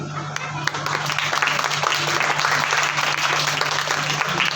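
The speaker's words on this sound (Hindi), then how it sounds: "तो पूजा दीदी के लिए ताली बजाकर उनका थैंक यू करें" Children at a summer camp program clap together to thank Pooja didi, a steady patter of many small hands with a constant low hum beneath, and some voices mixed into the clapping.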